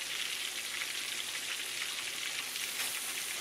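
Toasted vegetables sizzle in a frying pan with a constant, even hiss like light rain, fairly quiet and steady throughout with no talking.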